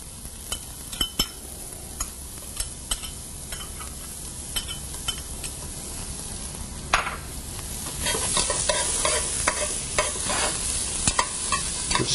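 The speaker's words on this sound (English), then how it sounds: "We're just going to let the flavor start to come out of the onion, let it sweat a little bit." Diced onion sizzles in a hot pan of olive oil, a steady close frying hiss with scattered clinks and stirring scrapes, the sizzle swelling louder toward the end.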